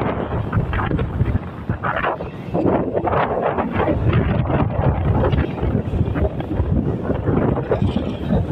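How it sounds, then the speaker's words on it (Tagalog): Strong, gusty wind at Pozorobo Beach buffeting the microphone continuously, a loud low roar with rumbling bursts throughout. "Taas ng hangin dito."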